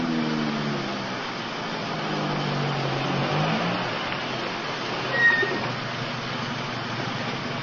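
A getaway car in a 1950s police drama accelerating away, an engine whose pitch rises and then fades as it pulls off, a steady mid-level drone under a faint background hum.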